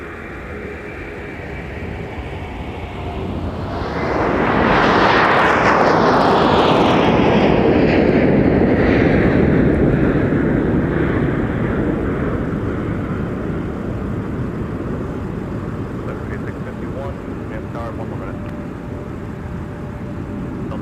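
Airliner taking off from snowy Minneapolis–St. Paul airport, a loud roar of jet engines that swells to a peak, sweeps past overhead and slowly fades into a steady distant rumble. No voices.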